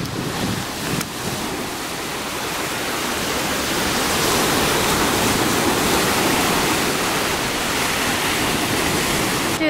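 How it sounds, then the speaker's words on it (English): Surf and wind at a crowded Myrtle Beach shoreline in hot weather, a steady, loud wash of breaking waves that swells slightly after the first few seconds and holds without clear voices. "So we are at the beach, yay!"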